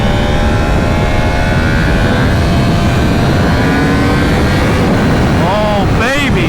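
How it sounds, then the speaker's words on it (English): A 2019 Yamaha R1M motorcycle accelerates on a highway, with a loud, steady engine drone and wind roar that climbs into rapid rising revs near the end. "Let's test out the acceleration."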